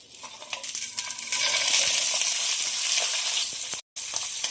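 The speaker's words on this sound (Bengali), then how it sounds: "ভাজার জন্য নেড়ে দেবো।" Whole spices and green chillies frying in white oil make a loud, dense sizzle that swells and holds steady while being stirred, with light scraping of the spoon and a brief cutoff near the end.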